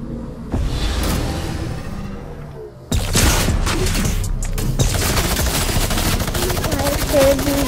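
Rapid video game gunfire in a player-versus-player match, sustained bursts of close shots with booms and whooshes, a brief lull before the firing resumes louder and denser, with voices chattering underneath.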